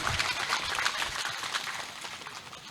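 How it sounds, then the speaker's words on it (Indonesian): Clapping breaks out from an audience at a harvest event in Konawe, Southeast Sulawesi, with the governor present, a fairly faint, distant patter that fades slightly toward the end. "Tepuk tangan dulu."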